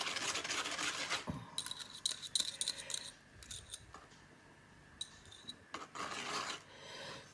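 A whisk scrapes and rasps around a bowl of batter with 100 g of melted butter added, in quick bursts of metallic strokes separated by short pauses, close and fairly quiet.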